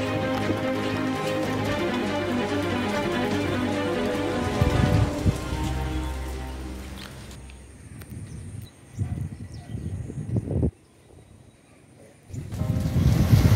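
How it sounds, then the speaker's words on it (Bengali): Floodwater rushes across from one bank to the other in Durgapur, West Bengal, making a loud, continuous roaring wash close by that later thins into patchier splashing and gurgling before surging again. "তোমরা দেখতে পাচ্ছ জলে আওয়াজ কত, মানে এই পার থেকে ওপারে যখন জলটা যাচ্ছে, জলের আওয়াজ এবং জলের স্রোত দেখো"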